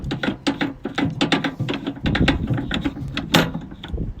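Front seat fastenings being undone in a VW T5 campervan, a busy run of close clicks, taps and small mechanical knocks with a low rumble underneath, no speech.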